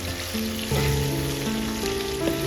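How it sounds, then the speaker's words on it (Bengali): Okra seasoned with turmeric and salt frying on a low flame, a moderate continuous crackle with some steady tonal humming beneath it and a slight swell in the middle. "লো ফ্লেমে এটাকে ভেজে তুলে নেব"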